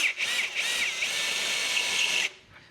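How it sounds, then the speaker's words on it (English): A power drill with a Phillips number 2 bit drives a screw into a rubber sleeve while fitting a TOTO Aurora Washlet+ toilet seat, a steady close whine of about two seconds that stops abruptly and then fades. "we're going to take the Phillips number 2 bit into our drill and put the screws into the rubber sleeves and tighten"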